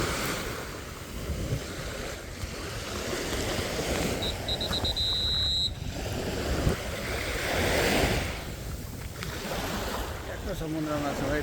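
Ocean surf rolls in at a kite beach, a broad continuous wash of waves mixed with gusty wind buffeting the microphone, loud and unbroken throughout.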